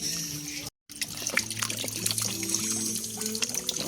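Tap water runs steadily into a sink while tomatoes are washed, a close trickling splash after a brief cutoff, with a voice speaking faintly underneath.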